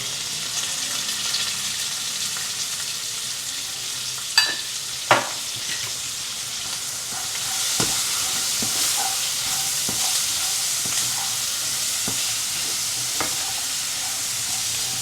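Tempering spices and leaves sputtering in hot oil for sambhar, a continuous close hiss and crackle with a few sharp pops and clinks of stirring.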